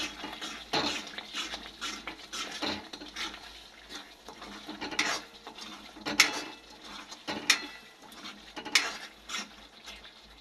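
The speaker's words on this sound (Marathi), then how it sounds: "आता व्यवस्थित मिक्स करून घ्यायचे सर्व मसाले।" Spices being stirred into a cooking pot for a Marathi-style fish curry, with scraping and clinking of a metal spoon against the pot in irregular bursts, close and moderately loud, no talking.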